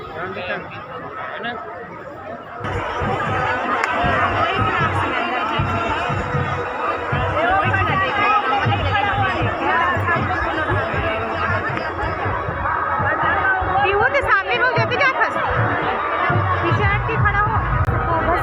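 A large festival crowd gathers for the Dussehra Ravan Dahan burning of Ravana in Kawardha, Kabirdham, making a loud, steady hubbub of chatter and scattered laughter, with many voices talking close by.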